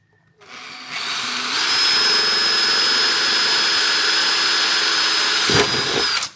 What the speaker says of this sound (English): I'm going to drill this one, then I'm going to put a bolt through to stop it wandering around.